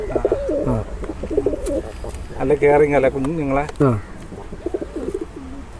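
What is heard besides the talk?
pigeons cooing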